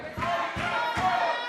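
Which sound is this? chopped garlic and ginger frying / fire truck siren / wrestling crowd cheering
wrestling crowd cheering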